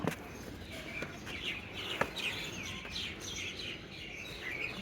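Small birds chirp and tweet inside the crumbling upper floor of an old zamindar house in Birulia, Savar, where pigeon nests now hold birds, with scattered calls and a few sharp clicks.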